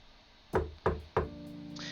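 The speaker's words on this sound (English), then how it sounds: "I make my way back to Erilynn's room and knock on the door" Three sharp, evenly spaced knocks on a bedroom door in a video game, close and distinct, followed by a soft ringing game tone.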